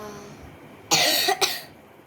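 A child coughs nearby, two short harsh bursts close together against a quiet room background.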